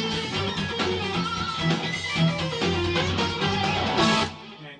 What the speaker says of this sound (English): Okay, the melody guitar sounds like this.